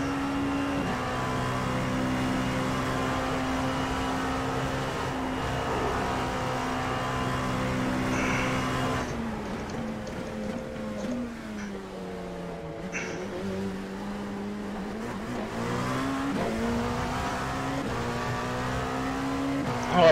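Porsche GTE race car in the iRacing game at Suzuka, its engine holding a steady loud drone on a straight, then dropping and climbing back through the gears over about twenty seconds, with no talk.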